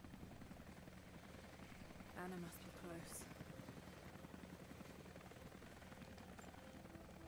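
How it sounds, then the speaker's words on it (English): A video game helicopter drones steadily in the background throughout, with a person speaking briefly over it partway through. "Hear the helicopter."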